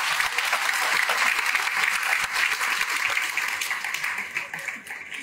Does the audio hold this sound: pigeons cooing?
no